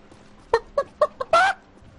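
A chicken clucks close by: four short, separate clucks, then a longer drawn-out squawk, with nothing else around them.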